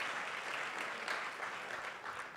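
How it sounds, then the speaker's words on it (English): Audience applause at a conference's closing session, a steady, moderately distant wash of many hands clapping without any talk. "That round of applause was for you"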